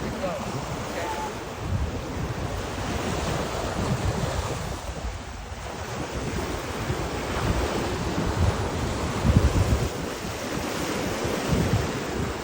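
Gentle ocean swells wash ashore at Kaanapali Beach on Maui's south shore, a steady continuous surf roar with light wind buffeting the microphone and no talk over it.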